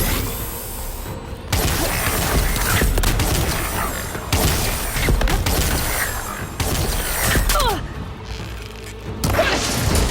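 Enemies fire on the player in Horizon Forbidden West, a dense, loud barrage of shots, crashes and heavy impacts that runs without pause, with a player shouting excitedly over the din.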